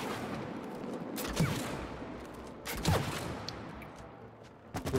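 Shooting in the co-op video game It Takes Two during a boss fight: a few soft, distant bursts of fire at intervals over a steady hum of game ambience.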